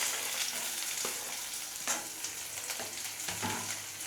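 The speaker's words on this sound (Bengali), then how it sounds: "এটা একটু অল্প অল্প ভেজে নেব" Onions frying in oil in a wok with garlic and chilli already browned, a steady close sizzle with stirring scrapes and a few sharper spatula knocks, no talking.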